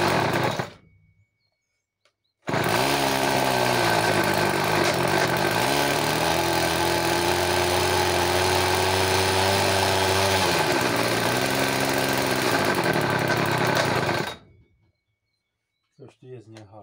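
A Stihl petrol brush cutter starts after a short silence, runs loud and steady for about twelve seconds with its revs rising and falling, then cuts out.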